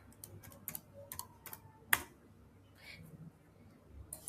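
Computer mouse clicks while operating garage management software: a handful of sharp, close ticks scattered irregularly, with one louder click near the middle, over quiet room tone.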